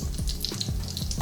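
Cumin seeds and red chillies spluttering in hot oil over medium gas, with sharp pops and crackles scattered over a bubbling sizzle, alone and close.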